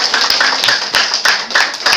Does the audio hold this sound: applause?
yes